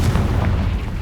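A Confringo blasting spell from Hogwarts Legacy, cast inside a cave, lands as a single dense, booming burst with heavy low rumble that holds steady through the short moment.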